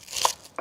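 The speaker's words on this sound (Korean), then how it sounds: "양배추는요. 이제 수분 날아갈 거 고려해서 조금 큼직하게, 큼직하게. 예, 썰어주세요." A knife cuts through cabbage into large pieces in a kitchen, giving two short crunchy chops a moment apart, close and moderately loud with no talk.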